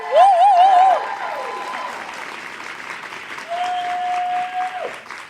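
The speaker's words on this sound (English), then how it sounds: "let's give a round of applause so they know that we all support them too" An audience applauds in support during a conversation event about alopecia, a moderate steady clapping wash with tonal sounds and voices layered over it.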